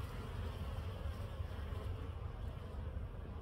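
Feral honey bees around a bee tree colony by a road, a faint, continuous low buzzing hum with light wind in the background and no clear voices.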